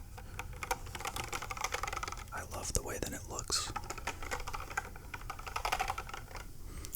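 Soft clicking of typing on a yellow 60% computer keyboard, close and steady, with a whispered voice talking over the keystrokes.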